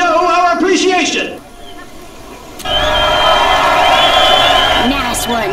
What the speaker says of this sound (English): let us cheer him to show our appreciation.